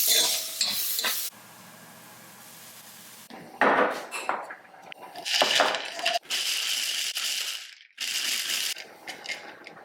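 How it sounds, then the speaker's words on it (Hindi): Beetroot with salt, turmeric, Kashmiri chilli and coriander powder stir-fried in a pan: bursts of sizzling broken by a quiet gap, with scraping and knocking of a spatula on the pan, close up. "बस बीटरूट डाल के इसको अच्छे से भूनना है।"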